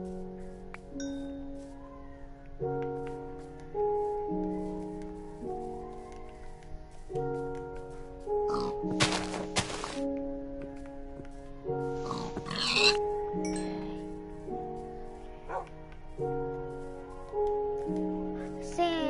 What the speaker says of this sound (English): pig, sheep.